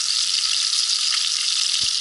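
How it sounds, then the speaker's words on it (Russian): Fresh fish fries in a pan at an outdoor fishing camp, giving a steady, close, bright sizzle with no voices. "Мы просто с Андреем жарим свежую рыбку"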